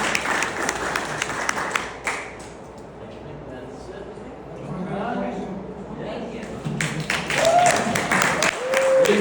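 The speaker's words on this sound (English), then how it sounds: "a nice round of applause for our public service" A crowd at a city council candidates' debate breaks into applause, dense clapping that fades to a murmur before swelling again, with voices speaking over and between the bursts.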